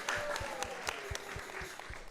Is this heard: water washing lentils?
no